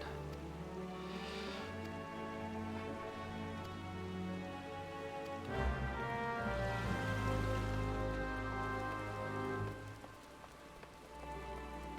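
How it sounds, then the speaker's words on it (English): Rain patters steadily during fishing in Final Fantasy XIV, a soft continuous hiss of drops over layered ambient game music, with no speech. "Fishing in the rain."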